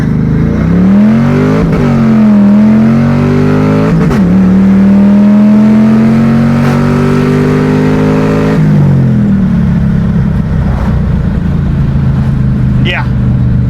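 A street car with newly installed 4.56 rear gears accelerates hard through first gear, the engine note climbing loudly and steadily before dropping at the shift, then rising again; close, dominant, with road noise throughout.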